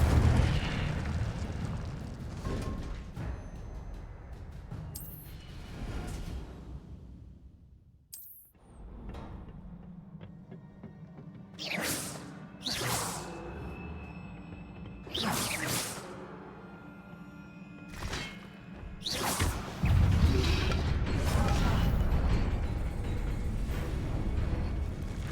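Spell effects for Accio and Incendio in the game Hogwarts Legacy: a long run of blasts and deep booming rumbles, with sharp crackling bursts that repeat after a brief near-silent gap.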